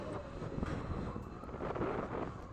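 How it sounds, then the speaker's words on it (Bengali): A local train pulling out of Santragachi Junction and picking up speed, heard from inside as a continuous low rumble with wind buffeting, steady and fairly loud, no talk. "এখন দেখতে পাচ্ছ ট্রেনের স্পিডটা আস্তে আস্তে কতটা বাড়ছে"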